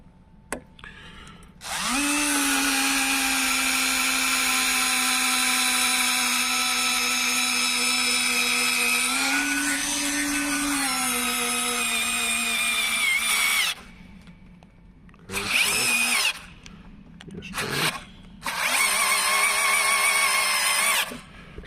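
Worx electric screwdriver driving a new screw: a steady, close motor whine runs unbroken for about eleven seconds, then a few short bursts of the same whir follow after brief pauses.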